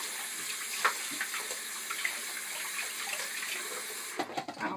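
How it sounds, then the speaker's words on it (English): Tap water runs steadily over freshly soaped recorder pieces being rinsed at a sink, a continuous close hiss and splash with small knocks of plastic parts, ending in a burst of louder handling and splashing. "Once you're ready, give everything a good rinse."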